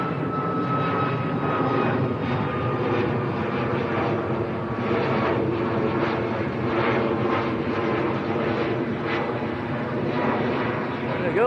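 A Ryanair airliner flies past at Manchester Airport, its jet engines producing a steady, broad roar that holds throughout, with a voice talking over it.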